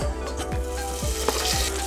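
Butter sizzles and crackles in a hot pot, with a steady frying hiss and a few soft scraping strokes.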